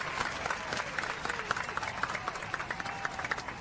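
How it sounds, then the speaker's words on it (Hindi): Studio audience applause on the Indian TV comedy set of Bhabi Ji Ghar Par Hai, steady brisk clapping from a crowd at moderate distance, filling the whole stretch without a break. "तालियां भाई"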